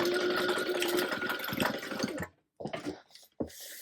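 A sewing machine stitching a folded quarter-inch hem on a fabric panel, running in a dense whirring burst for about two seconds, then stopping and restarting in short bursts.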